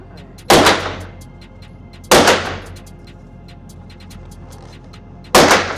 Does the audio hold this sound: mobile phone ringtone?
no